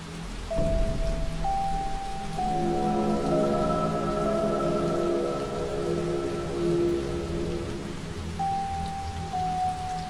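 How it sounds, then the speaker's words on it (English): Rain patters steadily on windows in a dark office, a continuous soft hiss throughout, with a sustained low musical drone underneath. "The patter of rain on the windows set an uneasy rhythm."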